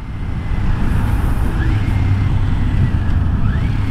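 A Kawasaki Ninja 400 motorcycle engine running at around 6,000 to 7,000 RPM, a loud, steady, close-up drone with a rough low rumble and air-rushing wind noise throughout.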